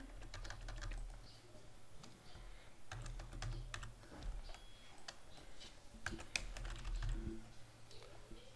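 Computer keyboard typing while entering data in Excel, quick irregular clicks of keys in short bursts, close and fairly quiet over a low steady hum.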